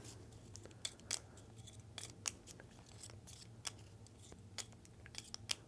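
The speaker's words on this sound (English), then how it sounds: "We'll give those a shuffle" Board game schedule tiles for home and visitor soccer teams are shuffled on a table, giving a run of short, crisp clicks and scrapes at an irregular rhythm, fairly close but quiet, with no talk.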